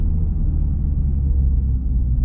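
Honda Civic Type R with muffler and resonator deleted, a deep steady exhaust rumble heard close while driving, low and droning with no talk.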